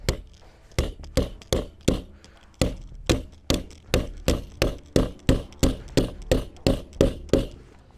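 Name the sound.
hammer strikes in Cyelee Bull Pro hammer torture test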